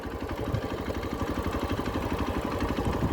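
A motorbike engine idles in neutral on a straight road trip toward the Rann of Kutch, a close, steady rhythmic chug with even low pulses throughout and no talking.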